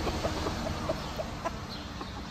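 White chickens on a Swiss village farm cluck in short, scattered soft calls, several spaced bursts at moderate distance over steady background noise.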